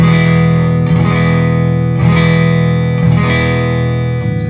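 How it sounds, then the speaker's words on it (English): Electric guitar chord struck repeatedly through a Cornford Roadhouse 30 amp head with the bass set to full, about four loud, distorted, fuller-bodied strums ringing out one after another. "With the bass up full, this is what it sounds like."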